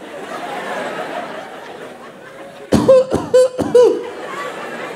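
A voice imitates a cough with three or four sharp, forceful bursts in quick succession, rising over a murmur of background crowd chatter and laughter.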